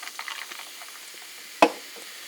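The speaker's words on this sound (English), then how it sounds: "you open up this can of Coca Cola and you pour it into this" Coca-Cola Cherry is poured from a can into a glass for an iced drink, giving a soft, crackling fizz that fades, then one sharp clink close by.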